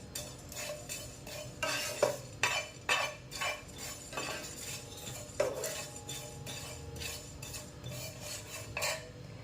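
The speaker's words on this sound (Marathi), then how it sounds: "मी इथं पाच ते सहा मिरे घेतले होते ते टाकायचे आहे आणि एखादं मिनटं भाजून घ्यायचं आहे चांगलं" Cumin seeds and black peppercorns dry-roasting in a pan, a spatula scraping and clinking against the metal in uneven strokes with a faint rattle of seeds, close and moderately quiet.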